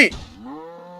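A cow lets out a single drawn-out low moo that holds steady and close, with a brief burst of noisy voices at the very start.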